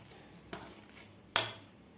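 A spoon works gram flour batter in a bowl as water is added a little at a time, giving two distinct clinks against the bowl, the second louder, over quiet faint scraping.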